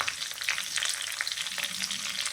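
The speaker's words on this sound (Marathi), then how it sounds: "पहिल्यांदा आपण टाकूया कढीपत्ता कढीपत्ता चांगला मस्त पैकी असा तळून घ्यायचा" Curry leaves fry in hot oil, giving a steady, close, crackling sizzle with dense spitting pops throughout and no talking.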